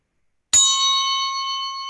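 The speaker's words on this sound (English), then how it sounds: "that is our bell" A single bell struck once, ringing out with a sharp metallic attack and then a long, steady sustained tone with bright overtones, close and clear with no talk.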